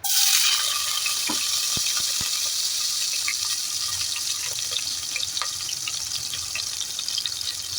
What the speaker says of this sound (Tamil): நான் வந்து கொஞ்சம் வெங்காயம் போட போறேன்.